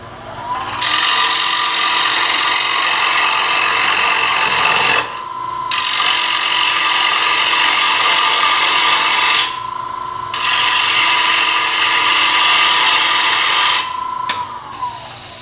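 A bowl gouge cuts deeper into a turning wooden bowl on a lathe, a loud continuous rasping scrape in three long passes separated by short pauses.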